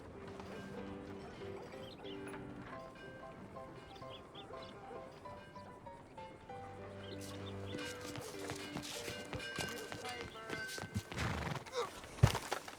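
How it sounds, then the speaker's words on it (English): A horse whinnies and hooves clip-clop in steady rhythm over a soft musical backdrop in the video game Red Dead Redemption 2, growing louder and busier toward the end. "Get on your horse, John"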